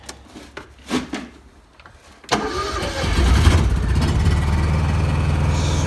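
A fuel-injected backup generator engine cranks briefly after a few quiet clicks, catches, and settles into a loud, steady running drone close by.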